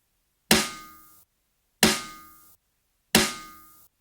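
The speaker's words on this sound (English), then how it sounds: "And then I've got this pingy sounding snare." Three separate hits of a bright, ringing, pingy snare drum sample for a heavy metal track, each struck cleanly and left to decay over about three-quarters of a second, spaced evenly with silence between.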